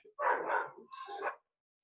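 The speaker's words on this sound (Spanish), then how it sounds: "Ay, este perro, perdón." A dog barks twice in quick succession, a short gruff woof followed by a higher yipping bark, fairly close in a quiet indoor room.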